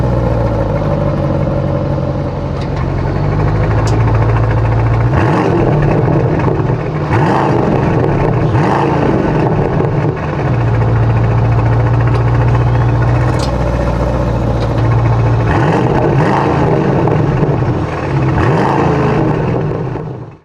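An Aston Martin DBX 707 engine drones from inside the cabin while driving, a loud steady low rumble that rises and falls through several surges of acceleration.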